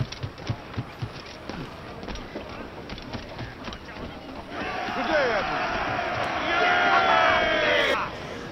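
A crowd cheers a returning ship's crew in Assassin's Creed IV Black Flag, a swelling wash of voices rising midway and holding loud to near the end, following a stretch of game ambience with scattered thumps and someone talking over it.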